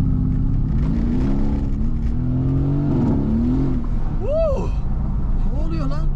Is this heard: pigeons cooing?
no